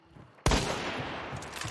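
A burst of video game gunfire erupts suddenly after a quiet moment and continues as dense, sustained shooting noise during a competitive broadcast match.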